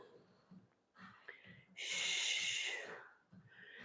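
A person exercising breathes heavily during a workout, a close, sharp rhythm of short breaths with one long forceful exhale in the middle.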